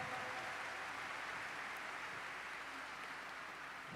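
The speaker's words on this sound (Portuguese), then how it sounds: "Glória, vamos aplaudir a palavra de Deus" A church congregation applauds together, a steady, even wash of clapping from many hands filling the space, moderately distant and sustained without pause.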